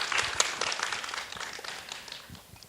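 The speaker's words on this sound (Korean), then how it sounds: "큰 박수 부탁드립니다." An indoor audience at a children's composition results concert applauds with moderate, steady scattered clapping throughout, heard from within the crowd.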